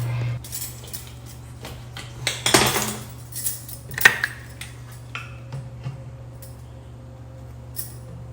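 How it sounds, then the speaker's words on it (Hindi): Washed dishes and cutlery are put away in a home kitchen, with scattered clinks and clatters of metal and crockery at an uneven pace over a low steady hum. "किचन में जो रात के बर्तन, धुले हुए बर्तन होते हैं, उनको लगाने का काम करती हूँ।"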